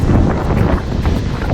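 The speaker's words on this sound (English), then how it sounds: "it's really windy up here" Strong wind buffets the microphone on the upper deck of the Norwegian Gem cruise ship, a loud, continuous low rumble with gusty fluctuations and no speech.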